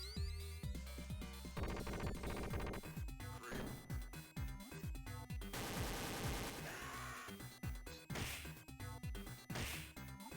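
Sharp gunfire bursts and impact whacks from a Sega Genesis video game, loud and dense over busy game music, with rapid repeated hits and swooshes throughout.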